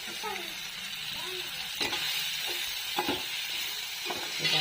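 Tomato gravy fries in a pan for a Manchurian gravy, a constant sizzling hiss broken by several distinct spoon stirs and scrapes, with faint voice-like tones in the background.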